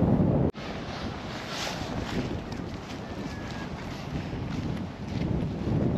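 Wind buffets the microphone on a river boat ride on the Edo River, a loud continuous roaring rush with water noise underneath, after a brief cut near the start.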